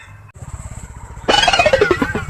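A motorcycle engine idles with a low, fast putter, then revs sharply into a louder, rising roar, close by.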